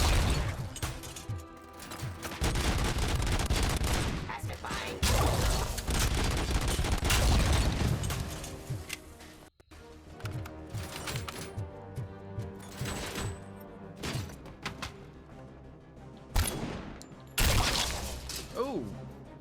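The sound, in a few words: gunfire in RoboCop: Rogue City video game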